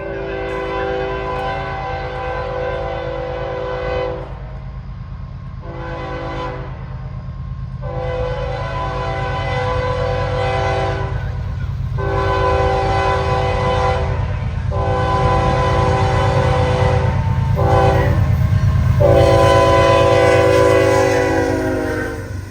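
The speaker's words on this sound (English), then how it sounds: "The 169 counterpart races westward to Wylie with the Norfolk and Western Heritage Unit in charge of the final miles" A Trinity Railway Express train led by a Norfolk and Western Heritage Unit locomotive races westward toward Wylie, sounding long, loud horn blasts broken by short gaps over a constant low rumble of the passing train.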